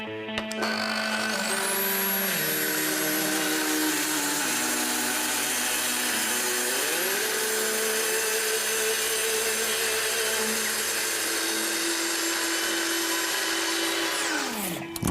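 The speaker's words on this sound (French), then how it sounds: "On va travailler avec la scie plongeante." A plunge saw guided along a rail cuts steadily through wood, a loud continuous whine close by with a steady high tone, ending as the motor winds down.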